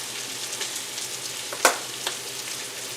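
Kielbasa cooking in a pan after about ten to fifteen minutes, giving a steady soft sizzle with one sharp scraping clack of a utensil partway through.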